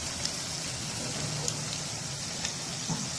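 Minced meat (qeema) fries with spices in a pan, giving a steady, close sizzling hiss throughout with a few faint pops and no talking.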